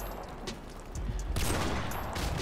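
Gunfire in Call of Duty 4 sounds as a string of faint, quick shots, then a louder burst of rapid automatic fire, with no talk over it.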